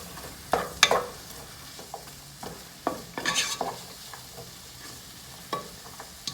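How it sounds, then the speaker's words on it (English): Onions fry in a pan with a soft sizzle, broken by several sharp clinks and scrapes as they are stirred and moved around, with no talking. "I don't know if you can hear the sizzling"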